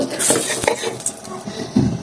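Fried lentil dumplings are scooped from hot oil in a pan into a bowl: close, busy scraping and clinking of a metal spoon against pan and bowl, with a faint sizzle underneath and a sharper knock near the end.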